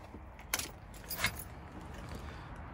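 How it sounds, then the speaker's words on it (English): Keys jangle briefly as a key goes into the ignition of an early-2000s Audi A4 with a faulty body control module: two short, quiet metallic rattles against faint background hum. "Whenever I put the key in the ignition"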